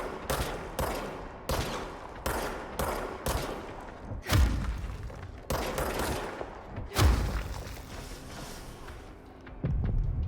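Enemy gunfire in the video game Control, a rapid series of sharp shots and heavier booming impacts in irregular bursts, loud and close with no talking.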